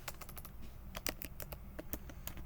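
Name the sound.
typing on a computer keyboard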